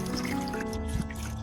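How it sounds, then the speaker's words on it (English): An orchid plant is washed in a basin of clean water, giving a steady, moderately loud trickle and gentle splashing that runs without pause and with no voices. "I prepared a clean basin to thoroughly clean the entire orchid plant with clean water."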